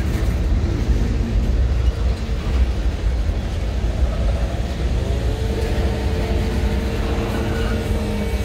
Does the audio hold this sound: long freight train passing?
yes